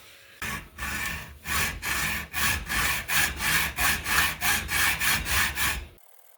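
A motorcycle exhaust pipe is sawn by hand in about a dozen rhythmic back-and-forth strokes, each a rasping scrape, close and clear, stopping abruptly at the end.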